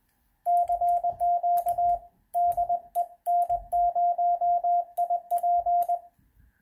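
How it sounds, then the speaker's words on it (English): Morse code keyed on an electronic keyer at 20 words per minute: a steady sidetone beeps out rapid, evenly timed dots and dashes in bursts, with short pauses between characters, clear and alone. "a feature of the electronic keyer circuit is that you can change the speed, as you can see here, and dial however fast you want to send your code"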